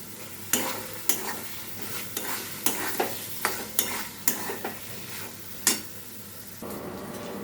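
Fried potatoes are stirred through spice masala in a pan, giving a low sizzle broken by repeated sharp scrapes and clinks of the spatula at an uneven pace, close and with no one talking.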